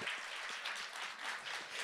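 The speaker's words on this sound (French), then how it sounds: "Je vous laisse l'applaudir." Brief, fairly faint round of clapping from an audience welcoming a researcher at a science event, a short burst of scattered claps with no voices over it.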